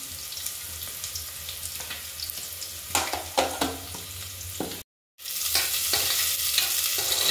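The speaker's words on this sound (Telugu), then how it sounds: "మొత్తం తిప్పుకుందాము." Fried spices with kasuri methi are stirred in a hot pan, a continuous sizzle with scraping strokes of the spoon, a brief pause, then the frying resumes louder.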